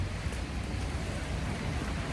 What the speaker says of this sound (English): this rain is really interesting. It's supposed to rain all week